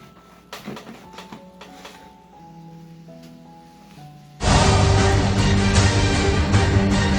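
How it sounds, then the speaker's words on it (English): A lemon emulsion is whisked in a bowl: a loud, continuous, scratchy whisking noise starts abruptly partway through and holds steady to the end, after a quieter opening with soft background music. "Once I'm done whisking, you can see that the emulsification has occurred"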